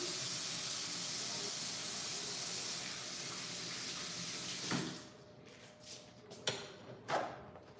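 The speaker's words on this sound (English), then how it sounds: "I'm gonna wash my hands because I have pork juice all over them." Tap water runs steadily into a sink as pork-covered hands are rinsed, a close, continuous splashing hiss that stops near five seconds, followed by a few brief knocks and handling sounds.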